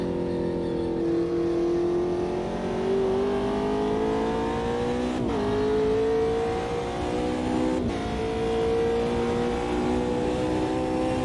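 A race car engine in Automobilista 2 at the Nürburgring Nordschleife screams at high revs, climbing steadily through the gears with two brief shift breaks, loud and continuous throughout.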